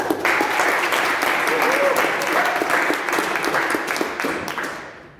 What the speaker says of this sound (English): And big round of applause Pretoria 2000.